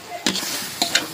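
Chili powder and turmeric being mixed into oil in a frying pan, a brief soft sizzle with a few quick scraping strokes of the spoon.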